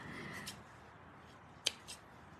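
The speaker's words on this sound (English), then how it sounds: "Let me get my ribbon scissors and give that a little snip." Ribbon scissors give a single crisp snip through craft ribbon while a thank-you card bow is being finished, one sharp cut standing out against quiet room tone with a faint follow-up rustle.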